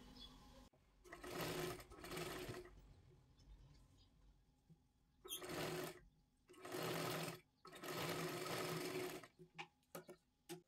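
A sewing machine stitches fabric for a size 42 katori blouse in several loud bursts of rapid whirring, separated by short pauses, with a few quick stop-start stitches at the end.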